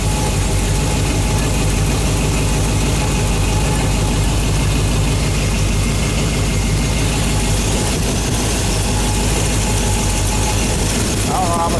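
A Chevy 350 V8 engine with a carburetor runs steadily during its break-in, a loud continuous low rumble and idle that fills the whole stretch alone, with no talk.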